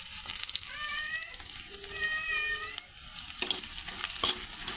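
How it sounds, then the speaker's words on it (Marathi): A paste of coconut, garlic and coriander frying in hot oil, giving a crackling sizzle with a few sharp pops and spatters, while a cat meows clearly several times nearby. "चला आता तेलामध्ये मस्त असं खोबरं, लसूण, कोथिंबीर ह्याची पेस्ट घालून घेऊ"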